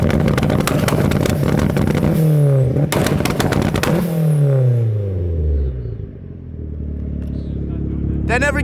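A tuned Mazda Miata engine revs hard and falls away repeatedly, loud and close, with rough crackling bursts and pops from the exhaust.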